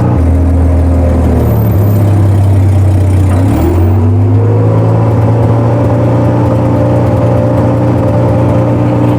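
A large armored military vehicle drives along suburban Nashville streets. Its engine gives a loud, continuous drone that shifts pitch mid-way as it changes speed, with no talking over it.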